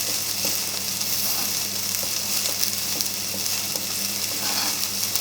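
Chopped onions fry in a pan for a lentil and butternut squash curry, giving a steady, close, continuous sizzle with faint crackles and no talking.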